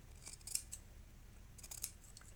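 Fabric scissors snip through cloth corners in a few quick, crisp cuts, clustered early and again later, close by in a quiet room.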